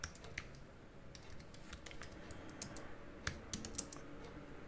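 A computer keyboard clicks softly and steadily as Laravel 9 PHP code is typed, with scattered faint keystrokes and a few slightly sharper taps over a quiet background, and no voice.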